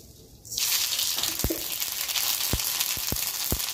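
Hot oil bursts into a loud, steady sizzle as black mustard seeds hit the pan for tempering, with a few sharp pops and crackles over the hiss.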